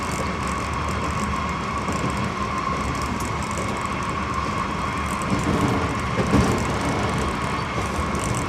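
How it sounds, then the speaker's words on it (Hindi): A Jaffar Express train runs on the line from Quetta to Jacobabad under dynamic braking, a steady, broad rumbling drone heard from the driver's cab with a faint whine over it. "अगेन डायनेमिक ब्रेकिंग इस्तेमाल करना शुरू की है।"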